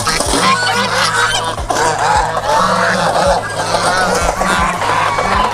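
A flock of geese at a cafe in Phuket, Thailand, honking loudly and continuously, many overlapping calls forming a busy, close chorus with no talking.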